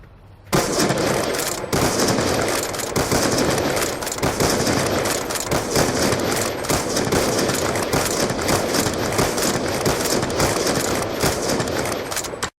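Dense, continuous rapid firing with echoing reports in Black Ops 2, after the sniper patch, loud and sustained for about twelve seconds after a quiet start.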